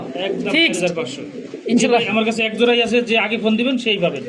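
Pigeons, including yellow king pigeons, coo and call at a pigeon market, their warbling notes overlapping with someone talking close by throughout.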